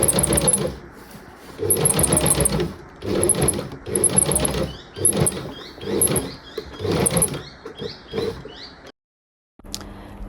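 A sewing machine stitches down fabric pockets on a quilted hydrangea project, running in several short, steady bursts with brief pauses between them, then stopping near the end.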